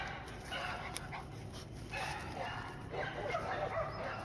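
Boykin spaniel puppies barking in short yips and whimpering at a kennel, close by, with a person's voice mixed in.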